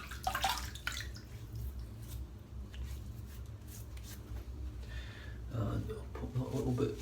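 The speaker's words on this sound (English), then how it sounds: "I'm just going to wet my face again." Water splashes and drips as a man wets his face before shaving, with a burst of splashing at the start and another near the end, with low background noise between.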